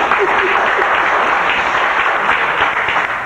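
Loud, dense audience applause at a public hearing, a sustained wash of many hands clapping close by, steady throughout with no gaps.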